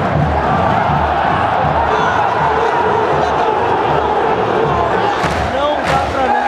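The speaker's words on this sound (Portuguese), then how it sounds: "a torcida pede o Riacho" A packed football stadium crowd at the Campeonato Carioca final roars and chants in a dense, continuous wall of voices, loud and unbroken, with occasional sharper shouts rising near the end.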